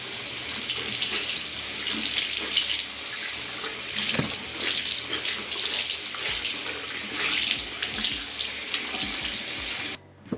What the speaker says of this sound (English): All you do is rinse it off with some lukewarm water and then rub it on a bar soap.